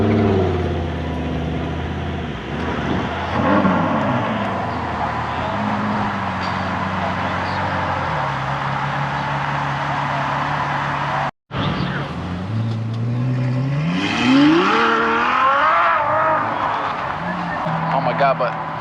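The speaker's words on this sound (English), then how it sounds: "who loves the sound of a V12 engine?" A Ferrari 812 Superfast's V12 engine revs up and down loudly close by, its pitch sweeping up with a brief cutout midway, under a steady roar.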